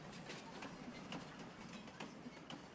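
A train in the video game Farming Simulator 25, a steady rolling rumble with regular rhythmic clicks of wheels on rail joints, moderately close.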